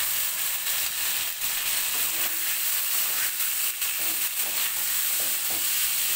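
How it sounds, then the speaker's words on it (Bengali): Bean seeds with potatoes and spices fry in a pan, a steady close sizzle broken by repeated scraping stirs throughout, with no voices. "মশলাটা নেড়ে ফেড়ে ভালো করে কষিয়ে নিব।"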